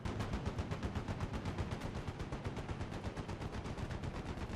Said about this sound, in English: Now you can hear and see gunfire going off right on top of our MKPZ-47